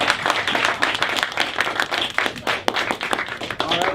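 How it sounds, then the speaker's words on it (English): An audience applauds student debaters with a mix of distinct hand claps and broader applause, fairly close, uneven in loudness and continuing throughout. "Let's give them another big round of applause."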